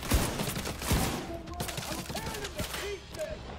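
Gunfire from a sniper rifle in The Division 2, with two sharp loud shots near the start and another at about one second, followed by a busy mix of game sounds and effects.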